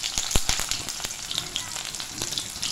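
Onion frying in hot oil with fenugreek seeds and cumin, a steady close sizzle broken by sharp crackling pops and occasional spoon knocks, with no voice.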